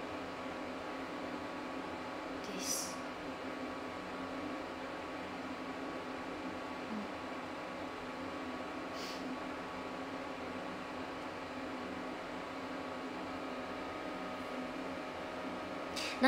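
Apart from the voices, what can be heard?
ventilation fan hum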